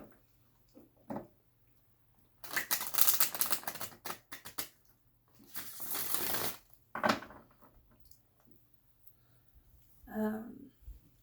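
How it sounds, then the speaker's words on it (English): Tarot cards are shuffled close by in several dry, rapid riffling bursts separated by quiet gaps, with a brief spoken voice near the end. "shuffling these tarot cards."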